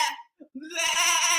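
A man imitates a goat with his voice, giving a short wavering bleat that rises out of brief vocal sounds, close and loud.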